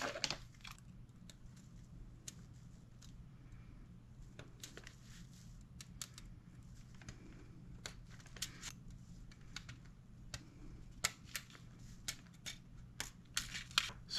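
Small plastic pieces of a Tiger I tank model kit are snipped off their sprues on a plastic cutting board, a series of quiet sharp clicks and snips at irregular intervals that grow more frequent toward the end.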